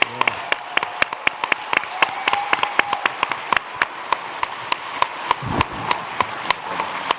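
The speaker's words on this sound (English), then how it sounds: "Please give these people a round of applause" Forum audience applause at the HOPE Global Forums 2024, with sharp, evenly spaced claps from a nearby clapper standing out above a softer bed of crowd clapping. Faint voices murmur underneath.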